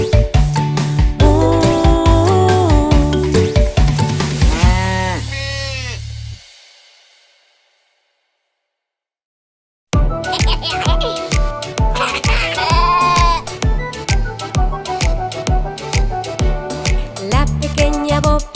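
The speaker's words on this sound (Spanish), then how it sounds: "La pequeña Bobby perdió a sus ovejas y no sabe dónde estarán" Sheep bleats sound within a bouncy children's song, wavering calls rising over the music after a short silence in the middle.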